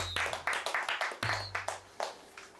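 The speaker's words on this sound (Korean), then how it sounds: "우리 또 1등 했으니까 박수 한번 줍시다." A small group of soldiers celebrating a first-place mission finish claps together in sharp, rhythmic bursts, close and distinct individual claps in quick succession with a brief break midway, no talking over them.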